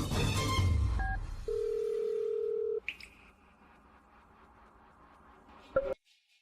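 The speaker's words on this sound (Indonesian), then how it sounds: "Benar, telepon. Aku telepon dia." A phone handset in a dramatized scene, with a steady tone followed by short beeps and a brief ring at the end, heard alone without talk.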